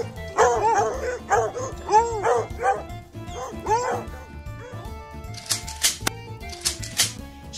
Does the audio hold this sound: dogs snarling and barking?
yes